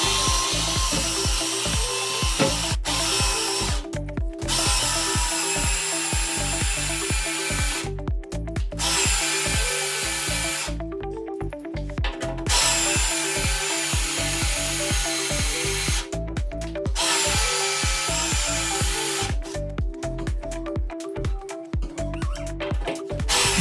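A power drill bores into bathroom wall tile while a Kohler towel bar is being installed, with the bit running dry enough to smoke. It makes a loud, close, grinding whine in repeated bursts, broken by several short pauses.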